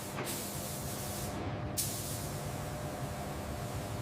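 Steady, dense spray hiss of paint being applied to Tesla car bodies in a factory paint process, continuous and close, with a brief break and a renewed burst of spraying partway through.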